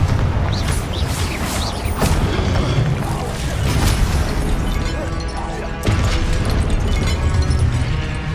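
Repeated Confringo fire spell blasts in Hogwarts Legacy, heavy booms and fiery bursts landing every second or two amid rumbling combat effects, loud and near.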